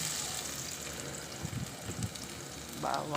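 Garlic sautés in a hot pan for beef pares, giving a steady soft sizzle with a few stirring clinks and a brief louder crackle near the end.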